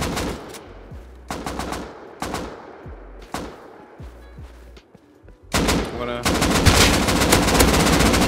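Gunfire from the survival game Rust comes in several short, loud bursts separated by pauses, then erupts into dense continuous firing toward the end.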